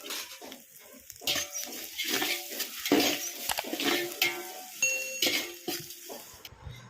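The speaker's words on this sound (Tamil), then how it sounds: "அடுத்து வெங்காயம் நல்லா வதங்கட்டும். நல்லா கிண்டி விடுவோம்." Salted onions sizzle and fry in a pot over a wood-fired stove while being stirred, with scraping spoon strokes, clinks of metal and a steady crackling sizzle nearby.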